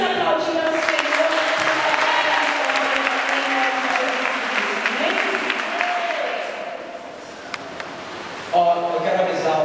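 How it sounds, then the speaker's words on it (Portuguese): A church congregation applauds in a sustained, loud roll of many hands, with voices and singing blending in before the clapping fades and a single voice comes through near the end. "Vamos aplaudir ao Senhor."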